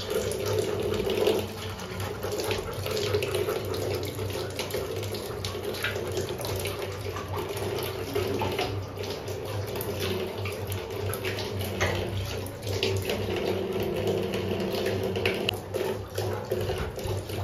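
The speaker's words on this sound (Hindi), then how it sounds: "इनको डायरेक्ट नल से पानी पीना होता है।" Water runs steadily from a household tap so pets can drink, a continuous splashing stream that lasts throughout with small fluctuations, close and fairly loud.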